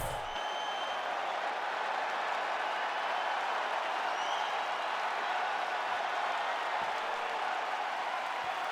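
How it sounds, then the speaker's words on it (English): A video game arena crowd at an EA Sports UFC 5 fight roars and cheers in a steady, dense wash of noise. It stays constant and loud throughout, with no clear voices over it. "This crowd is going sick after what they saw in that previous round."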